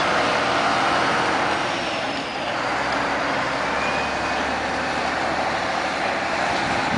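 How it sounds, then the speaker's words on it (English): A UPS triple-trailer truck rolls past, its loud, broad road roar and tire noise filling the whole span with a low engine drone underneath, steady and close without any talk. "This is a triple trailer wiggle wagon."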